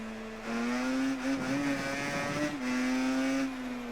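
Racing motorcycle engine in the Ride 3 video game, holding a steady high-pitched drone that rises slightly mid-pass and then settles, loud and continuous, with no talking.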